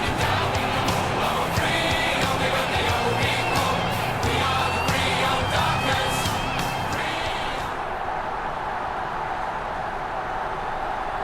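A steady, loud roar of a stadium crowd cheering in the AFL Evolution video game; the brightness eases slightly near the end while the broad wash of crowd noise carries on throughout.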